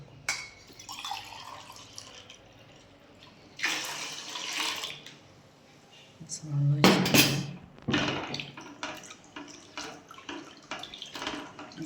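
Water poured into a fish mixture in a pot splashes in short bursts, the loudest in the middle, with clinks and rustling between and speech faintly in the background.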